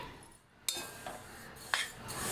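Metal spoon scraping and clinking in a kadhai as a mukhwas mix of seeds is stirred and heated, a few sharp scrapes over a soft continuous rustle, close and fairly quiet.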